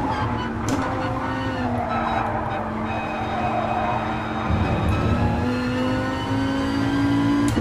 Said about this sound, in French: Le bruit de la Viper, elle est monstrueuse.